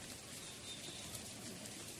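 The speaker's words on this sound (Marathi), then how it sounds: "हे बघा कसं पाऊस पडत आहे" Unseasonal rain falls steadily in an outdoor setting near mango trees, a faint, even patter and hiss that stays constant and distant throughout.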